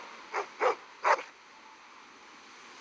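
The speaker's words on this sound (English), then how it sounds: "The lead dog approaches, then raises his head, alerted to some unseen threat." Sled dogs in the video game Reverse: 1999 give three short sharp barks in quick succession, fairly close, then fall quiet over a faint steady hiss.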